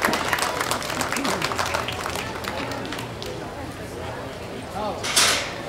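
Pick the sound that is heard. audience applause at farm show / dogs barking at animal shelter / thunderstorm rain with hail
audience applause at farm show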